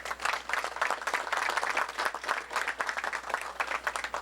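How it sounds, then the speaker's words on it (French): An audience applauds at a scholarship certificate ceremony in Haiti, with steady, moderately loud clapping from a crowd continuing throughout. "ministre Léonard Renaud, que je vous demande d'applaudir"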